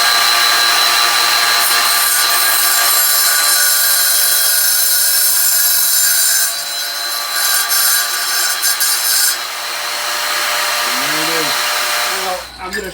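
Wet saw cutting ceramic tile, a loud continuous grinding whine that softens midway as the blade works through, then winds down near the end.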